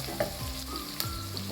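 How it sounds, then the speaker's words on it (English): Garlic and green chilli chicken fries in a pan, giving a close, steady sizzle broken by scraping and stirring clinks, with no talk. "fry this for some more time, for 2 minutes."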